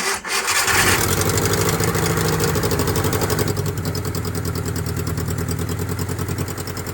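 A Suzuki F10A engine, freshly top-overhauled, cranks briefly, then catches and settles into a loud, steady, rapid idle chatter that continues to the end.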